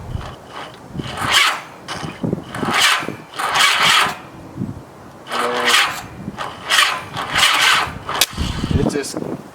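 A 1985 Honda Gold Wing 1200cc motorcycle that has sat for five years, its engine cranking over in several strained bursts without starting, with loud mechanical whirring close by and a voice talking between the attempts.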